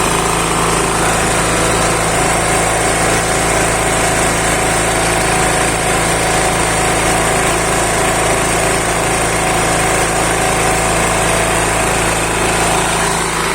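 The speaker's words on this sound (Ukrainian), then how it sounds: "тепер він повністю працює на газу, на природньому газу" A Chinese 2.5/2.8 kW portable generator running fully on natural gas after its leftover petrol was drained, producing a loud, steady engine drone with a constant hum, close by and uninterrupted, with no talking.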